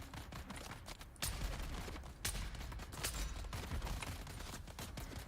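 Gunfire in the sci-fi video game Dune Awakening out in the deep desert: rapid, dense bursts of shots with a few sharper loud cracks, layered over constant combat noise.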